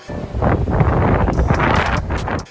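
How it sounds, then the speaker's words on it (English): Strong gusty wind buffets the microphone on a very windy day, a loud, close, continuous low roar and rumble that fills the whole stretch without any voices. "I will overlay a little bit of footage of just how bad this wind is right now."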